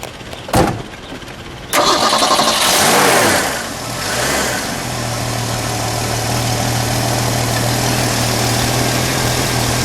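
A 1971 Ford Maverick Grabber engine cranks after a couple of sharp clicks, catches with a loud roar, rev rises then settles into a steady, smooth idle hum, close by.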